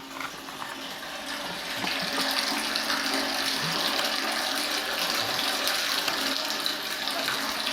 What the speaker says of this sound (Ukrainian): Да, вода тече вже чую.